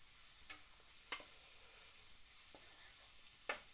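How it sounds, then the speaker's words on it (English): Kidneys fry in butter in a pan, giving a very quiet, steady sizzle with a few soft clicks and light taps, heard close with no one speaking. "Can you hear that starting to sizzle?"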